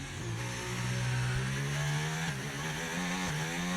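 A racing car engine in the video game F1 25 holds a steady, buzzing drone with slight pitch shifts, loud and continuous, no voices over it.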